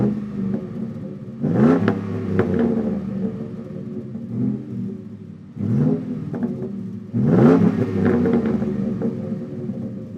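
A Ford F150 5.0L V8 with a Flowmaster American Thunder cat-back exhaust idles with a deep, burbling rumble, then revs sharply three times, each blip swelling loud and dropping back to idle.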